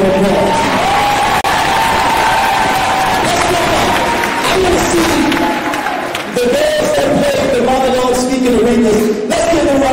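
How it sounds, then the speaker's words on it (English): At a community school for performing arts, an audience applauds and cheers its students during an Aretha Franklin tribute. A loud, continuous wash of clapping mixes with shouts and whoops throughout, and voices are raised over the noise. "So let's give all our students a round of applause."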